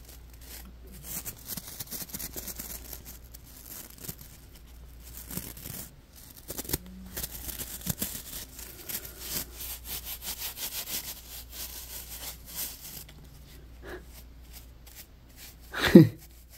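A Scrub Daddy sponge is pushed and scrubbed in quick, irregular rubbing and scraping strokes, close and fairly quiet, ending in one sharper louder scrape.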